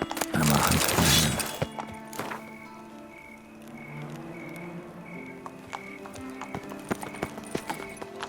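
A horse in The Witcher 3: Blood and Wine, opening with a loud crashing burst, then intermittent hoof clops and clicks over a quieter bed of tonal game ambience.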